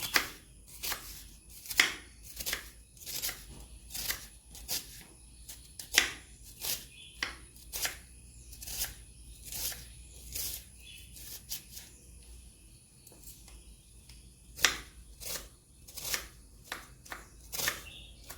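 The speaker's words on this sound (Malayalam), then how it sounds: "ആ സമയത്ത് നമുക്ക് ഉള്ളി ചെറുതായിട്ടൊന്ന് അരിഞ്ഞെടുക്കാം" Onions are finely chopped with a knife on a cutting board, producing crisp, close knocks in quick irregular bursts with short pauses between them, with no talking.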